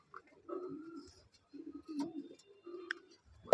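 A pair of American Saint fancy pigeons at a pigeon farm in Vadodara give low, soft cooing phrases in short bursts with pauses, close by, followed by a sharp knock at the end.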